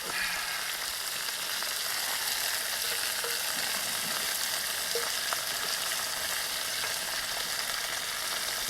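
Yellow onion and carrots fry in a camp mess kit, giving a steady, bright hiss of sizzling oil that stays constant throughout, close and fairly loud, with occasional faint clicks of stirring and no voices.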